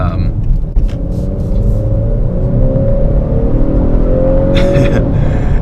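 A 2018 Honda Accord Sport 2.0T with a 10-speed automatic accelerates hard, a loud steady interior engine drone climbing in pitch through the clip, with the engine note shifting near the end.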